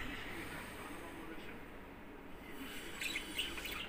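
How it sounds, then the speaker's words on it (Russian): A small pet bird sings indoors, faint high chirps and tweets that grow clearer toward the end, over a soft background hiss with a voice nearby. "Наша птичка поет песенки"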